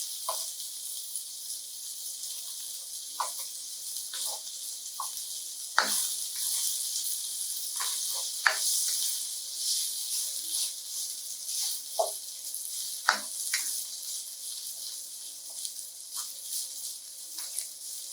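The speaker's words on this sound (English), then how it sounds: "The red pepper is the next step. You let that saute for about" Red pepper sautéing in a pan for a vegan turmeric stir fry rice, giving a steady soft sizzle with scattered small pops and faint stirring clicks, fairly quiet throughout.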